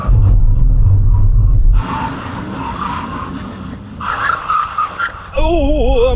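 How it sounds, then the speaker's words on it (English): Estate car making a full emergency stop from 100 mph. A loud road and engine rumble gives way to tyre noise and skidding, with tonal whines and a warbling tone near the end. "It's going to be from 100 miles an hour, and then we're going to do full emergency stop on the cone."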